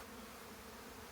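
Honey bees swarm and buzz around an open hive during a four-frame split, a dense, steady, fairly quiet drone with no pauses and no voices.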